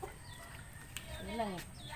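Backyard pet chickens cluck softly at feeding time, a few short calls and one rising hen's cry over a steady outdoor hum, with faint voices in the background.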